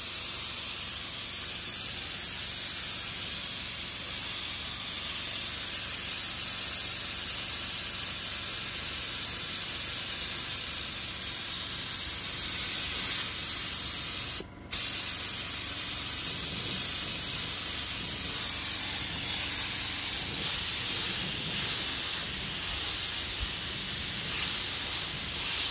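A compressor-fed spray gun lays the first stage of a two-stage paint on a Tesla Model 3 body, producing a loud, continuous close hiss with one brief cutoff partway through and no talking.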